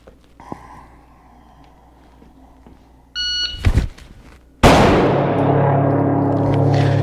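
A shot timer's start beep sounds once as a short, sharp electronic tone at a shooting drill from 7 yards, followed by a loud gunshot from a handgun draw and a lingering, ringing outdoor report.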